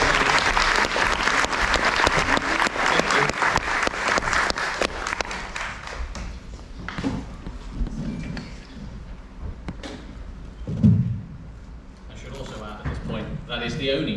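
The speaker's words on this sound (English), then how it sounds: "Please do a massive round of applause." Audience applause welcomes a speaker at a diabetes event, loud, dense clapping at first that thins and fades over several seconds, with scattered claps, murmuring and a voice emerging toward the end.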